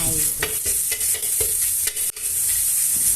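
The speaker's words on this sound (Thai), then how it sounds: "ผัดหมูสับต่อไปสักครู่" Minced pork stir-fries with curry paste in an oiled wok for a bamboo shoot dish, with loud close sizzling broken by rapid spatula scrapes and clanks, and a short pause in the middle.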